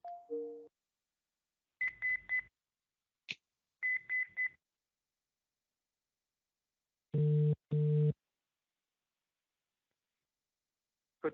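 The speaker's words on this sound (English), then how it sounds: "I'm just going to go and dial Susan from our system." A call is dialed from an office computer phone system: a short run of electronic tones and beeps, with gaps of silence between them, then a pair of louder ring-like tone bursts, all close and clean with no talk.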